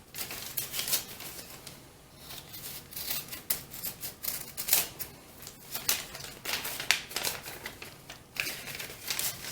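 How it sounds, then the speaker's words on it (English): Scissors cut through fabric for a doll-sized godet dress pattern, giving a run of quiet snips and crisp crunching cuts in an uneven, continuous rhythm, up close with no talking. "Okay, so now you just want to cut it."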